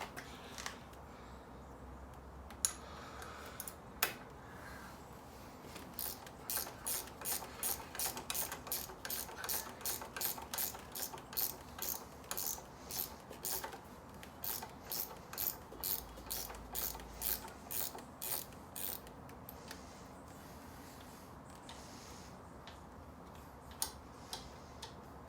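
A hand ratchet turns a 12mm bolt on a 2015 Honda Stateline VTX1300 motorcycle, producing a long run of rapid, even clicks in steady bursts, close and fairly quiet, with a few isolated clicks before and after and no speech.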